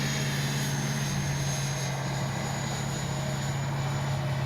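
An FMS Su-27 twin 70mm electric ducted-fan RC jet roars with a loud, steady whine and rush that holds constant throughout, with no pauses or voices.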